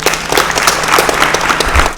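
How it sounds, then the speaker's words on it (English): A crowd applauds a returning alumnus before an interview, loud dense clapping that fills the whole moment without pause. "let's give him a huge round of applause."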